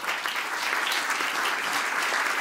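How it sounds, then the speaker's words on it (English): Conference audience applauding at a policy forum in Brussels, a dense steady wash of many hands clapping that continues evenly throughout. "big round of applause for Karen"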